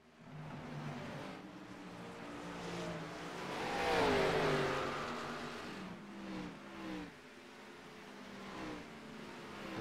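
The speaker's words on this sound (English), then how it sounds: "There is a car coming down pit road." A race car in a racing game rolls down pit road, its engine drone rising to a loud whooshing peak as it passes close, then fading under a steady engine hum, with no voices.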